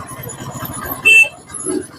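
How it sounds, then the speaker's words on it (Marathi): Highway traffic on the road toward Kumbhalgarh in Rajasthan rumbles past with a low, uneven drone, and one brief louder swell as a vehicle goes by. "इथं थोडंसं ट्रॅफिक आहे"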